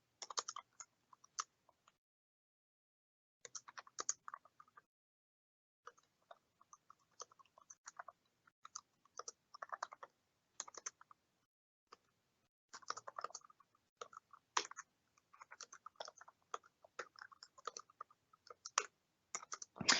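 Someone types a short summary on a computer keyboard. Soft, close key clicks come in irregular bursts separated by brief pauses.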